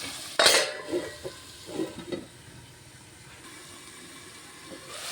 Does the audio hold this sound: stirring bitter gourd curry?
yes